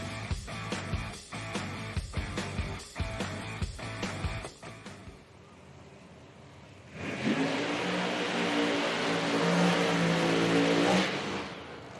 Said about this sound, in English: As the burnouts begin here for the next pair.